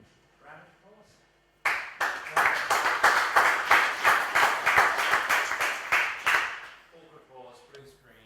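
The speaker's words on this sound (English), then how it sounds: "round of applause." An audience at an IoT security meetup breaks into a burst of applause that swells suddenly, holds strong for about five seconds, and fades, with a voice talking briefly before and after.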